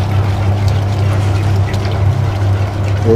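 Polenta cornmeal being poured into a pot while stirred, a soft continuous grainy rush over a low steady hum, with no speech.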